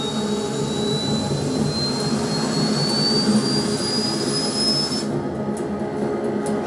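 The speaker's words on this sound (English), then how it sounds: "All this plane could do was take off, accelerate, and fly up." A jet plane takes off and accelerates, a loud steady engine roar with a rising high whine that climbs for about five seconds, then the whine cuts off while the broadband roar continues alone.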